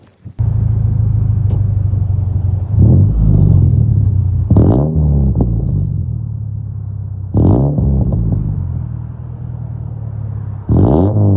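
A car engine with an aftermarket exhaust idles with a deep, throaty rumble, then revs up sharply several times, each burst roaring loud and close before settling back.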